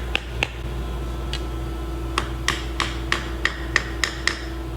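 A tip being tapped onto a wooden flintlock ramrod, about ten light, crisp taps, a couple early and then a steady run of evenly spaced knocks, close up over a low hum with no talking.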